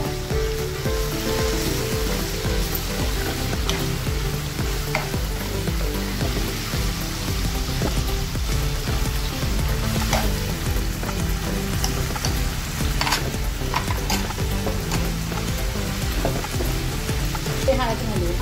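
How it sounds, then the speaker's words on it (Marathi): Spices roast in hot oil in a pan for a Maharashtrian cauliflower and pea curry, giving a continuous close sizzle and crackle with occasional scrapes and stirring clicks, no talking. "तेलात भाजून घेतला"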